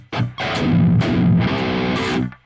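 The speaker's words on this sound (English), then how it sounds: "I'm playing a 7-string tuned to drop A." Heavily distorted 7-string electric guitar tuned to drop A through an Archetype Gojira amp sim, playing a few loud, sustained low chords in a short metal phrase.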